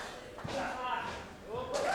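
At a QWA Victory & Violence wrestling show, Don Black slams onto the mat after a clothesline from Seth Tylors. Dull thuds sound twice beneath continuous ringside commentary.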